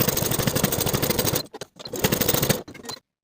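A sewing machine topstitches the side and bottom edges of a jacket pocket flap along a quarter-inch seam allowance. It runs in two close, steady bursts of rapid stitching with a short pause between, then stops.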